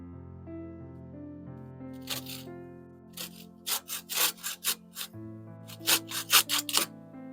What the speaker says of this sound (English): we are cutting a few dowels